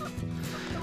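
Hens in a flock with several roosters give a short burst of throaty clucking, close and moderately loud, lasting under a second with no speech.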